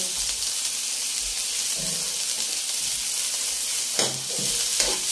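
Grated ginger and turmeric fry in hot oil in a pan for chicken curry, giving a steady, close hiss of sizzling with a few soft stirring clinks and scrapes.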